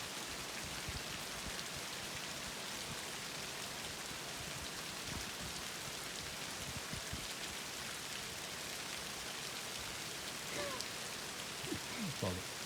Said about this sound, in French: ça s'arrête jamais de pleuvoir